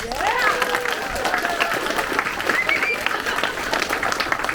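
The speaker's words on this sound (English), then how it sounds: "let's give a nice round of applause to all those great winners" A crowd applauds award winners at the Polykroma 2022 2D3D+ reception, with dense clapping mixed with voices and a few whoops, steady and fairly loud throughout.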